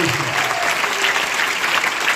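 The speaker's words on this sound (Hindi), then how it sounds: "एक बार जोरदार तालियां आपके लिए, आपके अप्लायंस के लिए, जोरदार तालियां" An event audience at a 19th anniversary celebration breaks into loud, dense applause, continuous clapping from a large crowd at a steady level with faint voices beneath.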